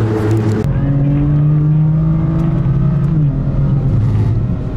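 BMW M4 CS driven hard on a race track, its engine droning loud and close with rising and falling revs, a brief gearchange near the start and a lift-off toward the end.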